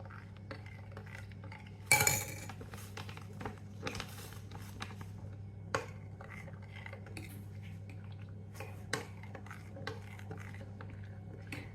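A spoon stirring a packet mix into milk in a bowl, with faint scattered clinks and scrapes against the bowl and one brief louder clatter, all quiet over a low background hum.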